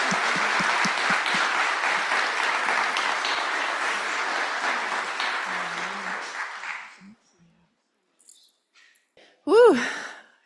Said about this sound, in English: Can we do another round of applause for our speakers,